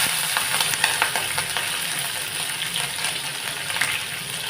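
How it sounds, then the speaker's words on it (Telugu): Onions, green chillies and bay leaf fry in hot oil with a steady, loud, dense sizzle and crackle, broken by faint stirring knocks. "ఇది మొత్తము బాగా నూనెలో వేగాలన్నమాట."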